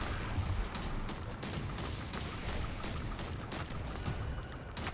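Explosions in the video game Destiny 2: Lightfall, rolling together as a dense, continuous rumble with scattered sharper bursts over about five seconds, moderately loud with no talking.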